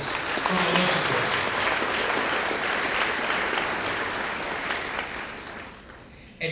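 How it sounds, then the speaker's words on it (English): A room applauds a school staff member at a Brunswick County Schools board of education meeting, dense sustained clapping that stays full for most of the stretch and then thins and fades near the end. "a round of applause for Melissa Pittman"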